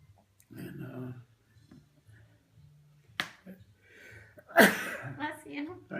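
A single sharp sneeze bursts out near the end at a table, preceded by quiet murmured voices and a soft click, fairly close.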